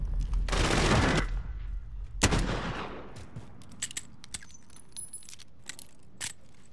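Two loud, broadband gunshot blasts from a revolver in the video game Call of Duty Modern Warfare, each followed by a decaying tail, then fainter scattered clicks and distant game effects.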